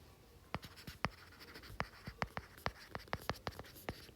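A pen or chalk scratches out writing during a geography lecture, a quick series of short, sharp strokes in an irregular rhythm, close and clear over quiet room tone with no talk.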